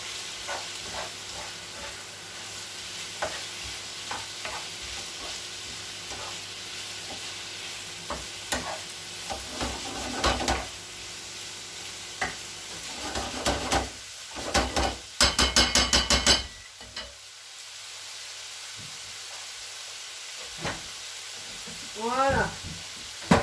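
Meat sizzles and fries steadily in a hot pan while tacos are being made, with scraping and stirring clatters from a utensil breaking in at intervals and a voice talking now and then.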